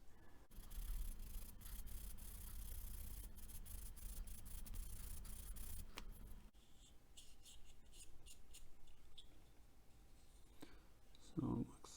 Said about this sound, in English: let's see if I can go ahead and start sanding here